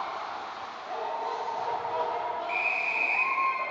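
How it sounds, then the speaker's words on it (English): A referee's whistle sounds during a 12U youth ice hockey game: a single sustained shrill blast rises over the hollow rink ambience and murmur in the last second and a half. "We have a whistle. We'll get some sort of a call."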